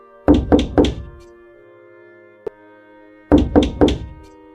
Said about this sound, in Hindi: कुछ समय बाद मुस्कान के दरवाजे पर कोई जोर जोर से दस्तक देता है।